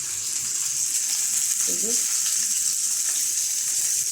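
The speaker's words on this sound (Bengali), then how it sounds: "এখান থেকে আমি দুইটা মাছ ভাজি করবো" Fish frying in a pan gives a steady, even sizzling hiss throughout, with a brief faint voice partway through.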